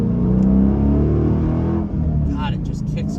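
Deep, loud exhaust rumble from a 2009 Dodge Challenger SRT with a manual gearbox and aftermarket exhaust, heard from inside as the engine pulls under acceleration, a brief dip suggesting a gear change before the drone continues.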